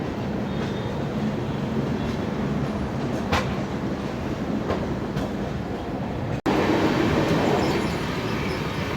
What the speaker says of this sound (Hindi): अपनी गरीब रथ एक्सप्रेस ने स्पीड पकड़ ली है